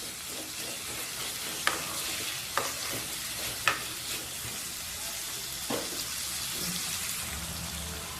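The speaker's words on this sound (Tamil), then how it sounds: "இந்த எண்ணெயிலேயே இது ஒரு 4லேருந்து 5 நிமிஷம் வரைக்கும் நல்லா ரோஸ்ட் பண்ணிக்கலாம்." Onions roasting in a generous amount of oil for onion thokku, a continuous close sizzle broken by several sharp scrapes and taps of a spoon stirring the pan.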